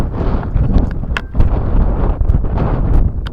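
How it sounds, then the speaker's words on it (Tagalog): Wind blows at a hilltop shrine in Batangas City, a loud, gusty rumble buffeting the microphone throughout with no talk. "Buti na lang mahangin, no?"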